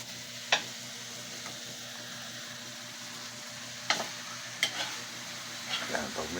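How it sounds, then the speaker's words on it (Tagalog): Pork sautés with garlic, onion and tomato in a hot pan, a constant close sizzle broken by a few sharp clinks of a stirring spoon. "Gigisa muna tayo ng baboy. Bawang, sibuyas, kamatis."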